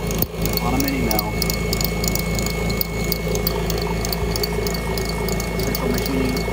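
A mini mill cuts through 1 mm material at a feed rate of 120, giving a steady mechanical whir and a rattling, ratchety chatter throughout. The sound is loud and continuous, with no pauses.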